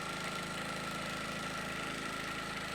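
A sewing machine runs a steady quarter-inch seam on a project bag, its fast, even mechanical hum and rapid stitching continuous and close throughout, with no talking.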